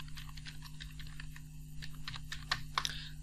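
Keys clatter steadily as a search for a 3D logo design mockup is typed on a computer keyboard, a quick run of clicks with a couple of louder strokes near the end, recorded quietly over a low steady hum.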